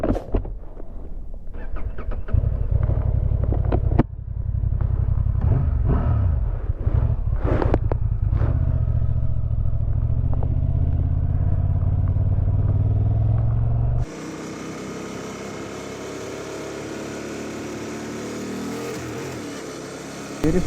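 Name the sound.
Honda Transalp XL750 motorcycle engine while riding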